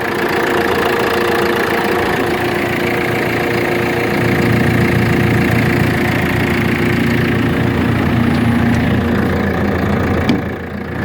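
A 2018 JCB 531-70 Agri telehandler engine idling nearby, a loud, steady diesel rumble with a constant mechanical knock and vibration, briefly dipping at the very end.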